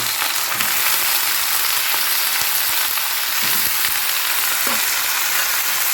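Washed chicken, a full kilo, frying in a hot pan for chicken posto, a loud continuous sizzle and hiss close up with faint stirring underneath.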